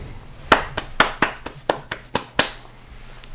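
Clapping applause sound effect: sharp, distinct claps in an irregular rhythm, about eight strong claps over a few seconds with a faint background hum, close and clear.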